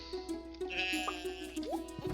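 Sheep bleat on a farm in Stardew Valley, repeated short wavering calls over a light tinkling game music bed, moderately loud and close.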